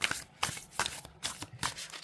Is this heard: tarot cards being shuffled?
yes